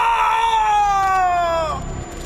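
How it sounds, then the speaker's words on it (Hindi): In an audio drama, a man lets out a long, loud scream of pain that slides slowly downward in pitch and fades out after about two seconds. "वो दर्द के मारे चीख पड़ा"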